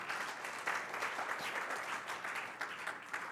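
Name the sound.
congregation applause in church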